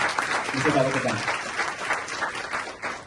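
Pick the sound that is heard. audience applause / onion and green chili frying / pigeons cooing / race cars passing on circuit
audience applause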